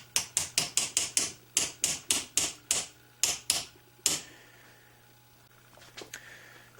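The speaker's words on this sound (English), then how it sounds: "You'll have to use your hammer to tap it the rest of the way in." A hammer taps a pin into a Bersa pistol lower receiver: about fifteen sharp metallic taps in a quick, fairly even rhythm, then a pause and a few lighter taps, close and clear.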